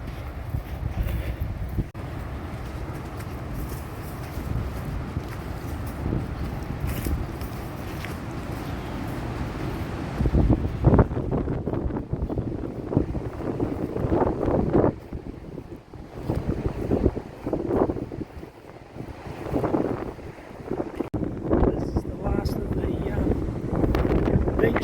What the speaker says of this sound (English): Beach accesses, a bit breezy anyway. Back into the open and into the wind.